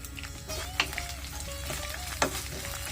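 Whole spices such as cinnamon, cardamom, peppercorns, cloves and trimmed bay leaves fry in hot oil with ginger and garlic paste for beef kala bhuna, giving a steady close sizzle broken by a couple of sharp stirring scrapes.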